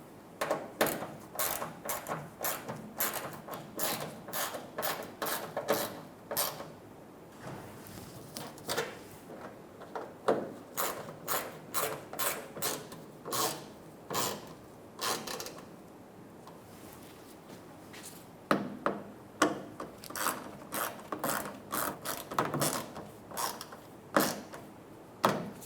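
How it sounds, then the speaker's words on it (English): Screws are driven into the rear mud flaps of a 2014-2018 Chevrolet Silverado 1500, heard as repeated close ratcheting clicks in quick bursts with short pauses between. "Go around and snug the screws down."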